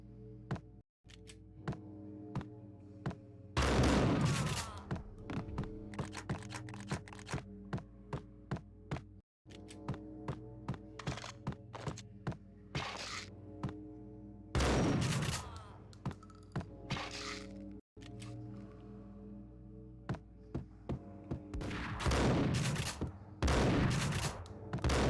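Shotgun fire in Max Payne: booming blasts with heavy roaring tails recur every few seconds, mixed with many quick sharp pistol-like shots and clicks over a droning game soundtrack, with no talking.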